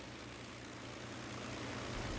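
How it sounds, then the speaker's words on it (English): Avro Lancaster bomber's four Rolls-Royce Merlin engines and propellers, a steady, broad droning roar with low throbbing, heard faintly and continuously without talk. "Listening, just listening to those 4 Merlin engines and those 4 props going round and round."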